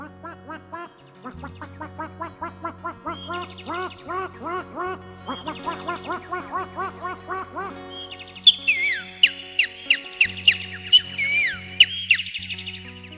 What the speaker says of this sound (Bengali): ওই যে গৃহস্থের হাঁস মুরুগ ডাকছে